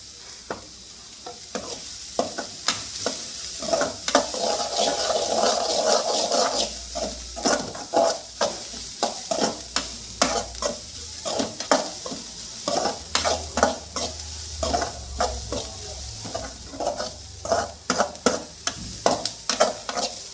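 Onions sautéing in oil in a pan for fish thokku, a steady sizzle with frequent scraping stirs of the spoon, close and clear throughout.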